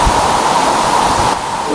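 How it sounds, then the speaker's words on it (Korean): A large waterfall at a camping site roars in a dense, steady rush of falling water, loud and continuous with no voices over it. "이 큰 폭포, 이게 정말 명물이에요"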